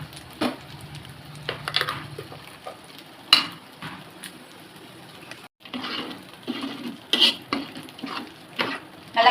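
A spoon scrapes and stirs through fish curry in a pan with a sizzling base, giving irregular close clinks and scrapes, loud and alone, with a short silent break midway.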